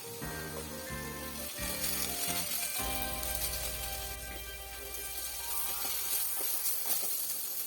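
Vegetables for Hakka noodles fry in a hot pan with a continuous sizzling hiss, partly buried under loud backing music throughout.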